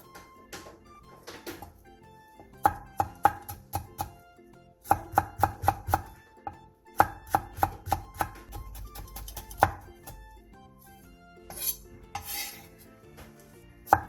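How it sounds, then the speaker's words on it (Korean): A knife finely chopping three red chili peppers on a cutting board, sharp rapid knocks in quick bursts with short pauses between, close and clear with no voices. "홍고추 3개에 길게 십자 모양으로 칼집을 낸 뒤 쫑쫑 썰어주세요."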